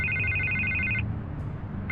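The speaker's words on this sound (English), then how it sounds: "I can't get the phone to stop ringing." A telephone rings steadily in the Batman Telltale video game, a bright electronic trill that holds for about a second, pauses, then starts again over a low background hum.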